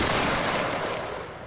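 A dense volley of musket gunfire from a Bavaria versus Prussia battle video game erupts at once as a loud, rolling fusillade that fades over a second and a half, with no voices.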